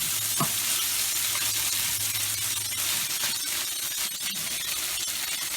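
Carnitas pork browning in a hot pan, a steady close sizzle and hiss of frying meat with occasional stirring scrapes, loud and continuous without talk.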